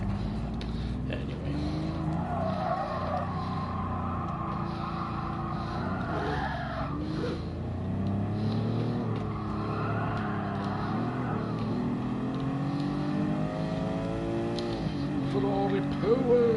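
Ferrari race car in Gran Turismo Sport, its engine droning continuously with rising and falling pitch through gear changes and accelerations, while someone talks over it.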